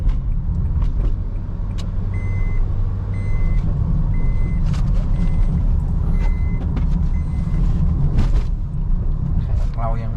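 A car fitted with new Silver Neomax One shock absorbers is driven at speed on a test drive, giving a steady, close road and engine roar with a few short electronic beeps, while people talk throughout.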